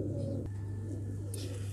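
A domestic pigeon coos close by, a low, steady, throaty rumble that carries through the whole moment with only faint background noise.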